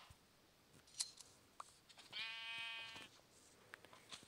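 A single electronic-sounding sheep bleat from Minecraft with a buzzy, tonal quality rings out alone over quiet background, surrounded by a few soft clicks.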